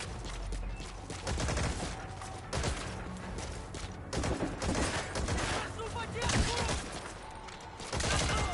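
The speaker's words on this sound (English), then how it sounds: "I'm shooting bullets and you're throwing a mortar at me?" Gunfire and mortar fire in the video game Metal Gear Solid V: The Phantom Pain, bursts of loud sharp shots and heavy booms scattered irregularly across the clip, with voices talking in the mix.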